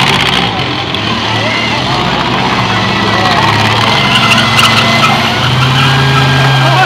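Cars in a demolition derby race rev their engines and skid their tires, with a few sharp knocks of impact, loud and busy amid background crowd noise.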